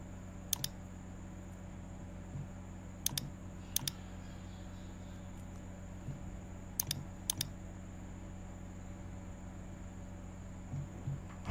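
Computer keyboard keys clicked in short clusters, a few quick presses at a time separated by pauses, close and fairly quiet over a steady background hum while formatting an envelope in Word.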